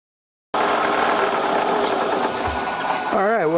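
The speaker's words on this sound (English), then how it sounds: "I'm going to put it on the grinder, and it's going to straighten it right out." A bench grinder runs steadily as a dull bit is sharpened on the wheel, giving a loud continuous mechanical whine from start to finish. Near the end the pitch wobbles and shifts as the workpiece is pressed against the stone.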